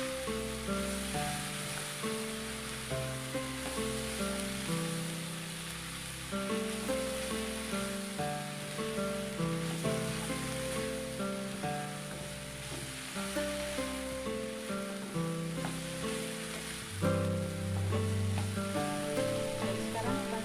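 Hong Kong-style fried rice with oyster sauce and sesame oil being stirred in a hot pan, a soft, continuous sizzle with occasional scraping, faint and partly buried under background music.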